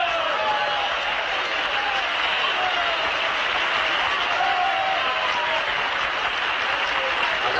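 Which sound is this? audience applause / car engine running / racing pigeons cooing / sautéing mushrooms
audience applause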